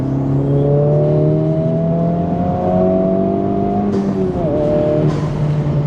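Honda Civic Type R 4-cylinder engine revving from inside the car, a loud steady harmonic drone that rises in pitch, dips briefly around a gear change, then climbs again.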